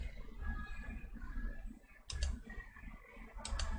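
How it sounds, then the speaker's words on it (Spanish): Mouse clicks on a computer while running web code in a browser, a few sharp faint clicks near the middle and end over quiet room noise. "Le damos clic."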